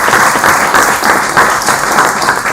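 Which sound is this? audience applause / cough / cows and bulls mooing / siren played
audience applause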